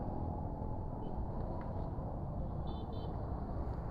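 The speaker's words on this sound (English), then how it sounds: "let's just take a moment and just listen to the traffic" Street traffic in Kampala, Uganda, heard from the roadside as a steady, low, muffled rumble of passing vehicles, with faint higher tones now and then and no voices.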